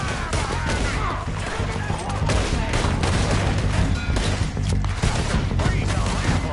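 Heavy gunfire in the western game Red Dead Redemption 2 during a shootout near cabins, a relentless barrage of overlapping shots and crashes, loud and continuous, with shouting voices mixed in.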